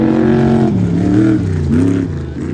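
Ultra4 off-road race car from Gomez Brothers Racing on the Vegas to Reno course, engine droning loud and close with rising and falling pitch as it drives past, no talk.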